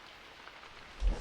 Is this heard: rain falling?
yes